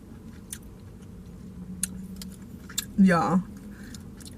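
Dungeness crab from Ivar's is chewed up close, with soft wet squishes and a louder crunchy burst near the end, while a person talks briefly.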